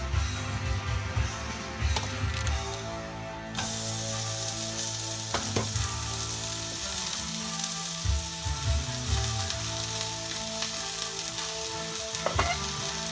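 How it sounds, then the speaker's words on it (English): A New York strip steak sears in a hot pan on high heat, giving a loud, steady sizzle and frying crackle throughout, with a few sharp clinks partway through and no talking. "you want that to sear for a little bit. In the hot pan."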